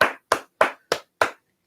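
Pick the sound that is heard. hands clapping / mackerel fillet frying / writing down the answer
hands clapping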